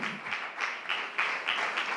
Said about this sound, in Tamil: நல்ல கைத்தட்டி ஆண்டவருக்கு நன்றி சொல்லுவீங்களா?